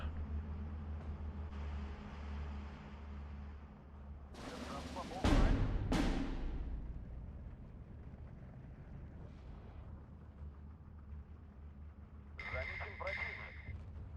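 Mortar fire in the Steel Division 2 video game: a couple of sharp, heavy booms mid-clip followed by rumbling aftermath, with lighter crackling later over a low continuous battle drone.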